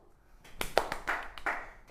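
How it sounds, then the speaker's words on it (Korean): A classroom of students at a science high school claps hands briefly, a short scattered burst of a few sharp claps heard fairly close and moderately loud. "박수!"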